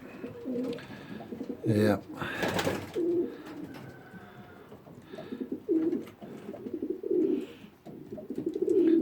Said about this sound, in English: these are just the other birds finishing off their food they've had.